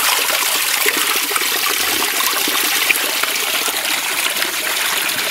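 Spring water flows steadily into a pond, a continuous close hiss of running water with no pauses or voices.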